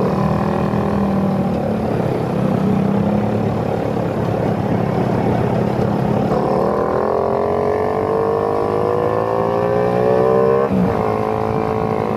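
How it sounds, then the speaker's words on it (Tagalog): Dense road traffic rolls down a flyover in heavy congestion, a steady close rumble of car and motorcycle engines with rising revs and passing vehicles throughout. "Pababa ng flyover, no? Grabe talaga ang traffic."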